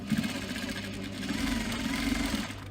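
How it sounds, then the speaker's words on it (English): A sewing machine stitches fabric just beside a zip on a small purse, running steadily with a rapid mechanical chatter and motor whir, loud and close for a couple of seconds with no talk. "I'm going to stitch just to the side of that."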